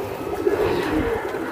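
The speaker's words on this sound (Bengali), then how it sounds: "ভাই, বুদাপেস্ট কবুতর" A Budapest pigeon coos in a low, soft, rolling murmur, close by and steady, with no voices over it.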